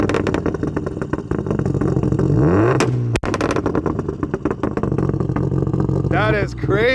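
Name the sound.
1995 Subaru WRX STI RA rally car engine revving with anti-lag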